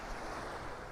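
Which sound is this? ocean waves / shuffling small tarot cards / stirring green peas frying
ocean waves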